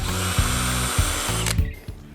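A power drill bores a pilot hole while a bolt-on fender kit is fitted to a Honda Shadow, a close, loud whine broken by several short load pulses before it cuts off.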